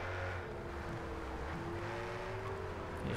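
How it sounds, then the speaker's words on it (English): Engine noise from a race in the racing video game Project CARS 3, a steady loud drone with a rising whine as a fast car passes close by. "Look at the car that just passed me."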